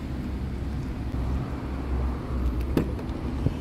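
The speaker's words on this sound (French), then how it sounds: "Et voilà, Linda arrive avec de nouveau la grosse BMW." A large BMW car rolls in with a low engine rumble, a steady moderate hum near by, with a couple of brief clicks or knocks toward the end.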